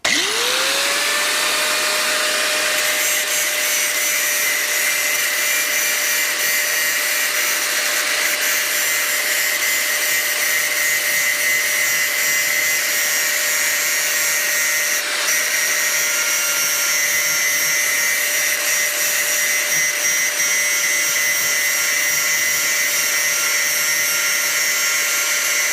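A power grinder cleans up a piece of cast iron ahead of brazing, spinning up to a steady loud whine and then holding a continuous, close grinding roar with no pauses.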